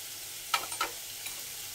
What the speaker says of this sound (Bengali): পেঁয়াজটা ভাজা হয়ে এসছে, উপরে তেল ভেসে এসছে। এবার দিয়ে দেবো আমি লঙ্কার গুঁড়ো